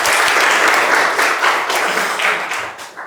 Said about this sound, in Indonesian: Kita kasih tepuk tangan dulu buat yang bisa jawab.